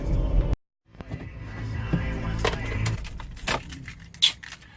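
Keys jangling as they are pulled from the ignition of a company car, a few bright metallic clinks and rattles close by over low cabin rumble, with one sharper jingle near the end.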